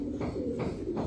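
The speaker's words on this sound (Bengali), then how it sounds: "এটা অ্যাশ চোখের পাখি কবুতর, অ্যাশ চোখের একটা পাখি কবুতর, জাবরা পাখি।" An ash-eyed Jabra pakhi pigeon coos close by in a soft, low rhythmic series of about three pulsing calls.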